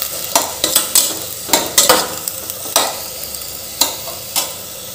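Masala sizzles as it is stir-fried in oil for Khandeshi khichdi, with steady frying hiss broken by repeated sharp scrapes and taps of a spoon against the pan, close up and with no talk.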